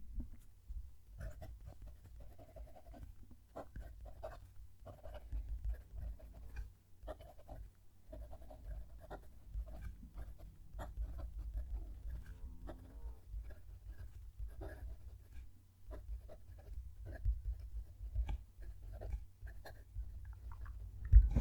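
A Pilot Prera fountain pen writes across paper with a steady, faint, close scratching. Small strokes and pauses continue throughout, with no talk.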